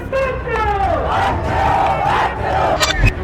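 Thousands of state employees rallying on Jaipur's streets in protest, a loud massed crowd chanting and shouting together, steady and dense, with a few sharp bursts near the end.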